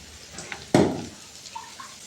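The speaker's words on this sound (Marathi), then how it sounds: "आपले तांदूळ 3 पाण्याने छान धुवून झालेले आहे" Rice being rinsed in water in a home kitchen, with a single splashy slosh and clink of a vessel standing out over quiet background noise.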